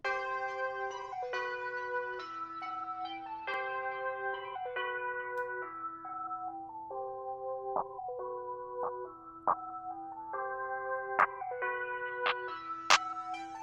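Bright bell tones in a new wave hip-hop beat play a descending then rising melodic line over a low sustained hum, clear and steady with occasional sharp accents.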